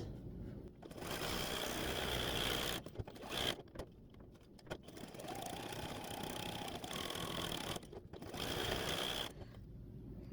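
A sewing machine stitches around appliqué leaves on a quilt block, running in steady close bursts of rapid mechanical whirring broken by brief pauses and pivots.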